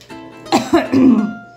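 A person coughs several times in a short burst, close by, with rough throaty bursts and no talking.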